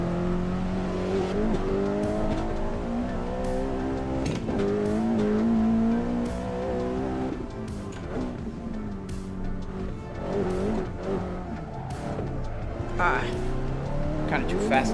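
A Honda Civic Type R lapping the Nordschleife tourist layout in a driving video game, its engine droning and revving through gear changes with occasional tire squeal, while people talk over it throughout.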